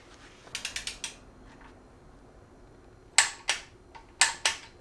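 A torque wrench clicks sharply while tightening a bolt to 29 foot-pounds on a car: a quick burst of four ratcheting clicks, a pause, then two more pairs of louder, crisp clicks close by.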